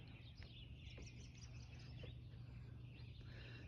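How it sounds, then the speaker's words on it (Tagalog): Faint, scattered bird chirps carry over a steady low outdoor hum beside a lake on a quiet morning. "Maririnig mo lang yung mga huni ng ibon."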